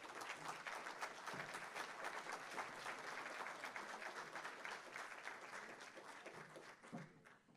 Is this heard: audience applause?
yes